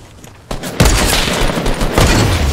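Sniper rifle shots in the video game Fortnite, fired without a scope: two sharp, loud blasts about a second apart with a booming tail, close and alone.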